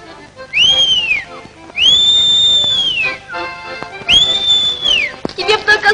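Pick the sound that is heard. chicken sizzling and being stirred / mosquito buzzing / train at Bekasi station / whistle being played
whistle being played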